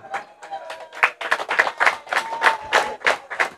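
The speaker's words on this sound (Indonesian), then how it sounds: "Tepuk tangan dulu dong." An audience at a religious talk claps along in quick, uneven bursts of hand claps, fairly close and steady, with a faint voice or tone sustained underneath.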